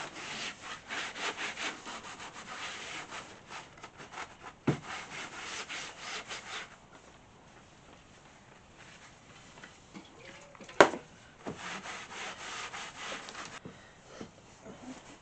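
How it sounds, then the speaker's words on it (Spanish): A clean cloth soaked in clean solvent wipes across wood at a restoration workshop: close, steady rubbing strokes in a brisk run, then a quieter pause broken by a couple of sharp knocks before the rubbing resumes. "voy a coger un trapo limpio, voy a coger disolvente limpio y voy a darle una pasada de disolvente limpio"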